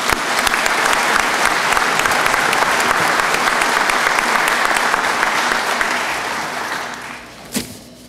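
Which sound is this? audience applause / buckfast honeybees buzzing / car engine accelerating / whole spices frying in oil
audience applause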